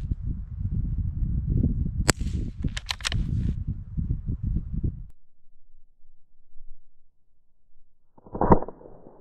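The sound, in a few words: 22lr rifle shot at moose target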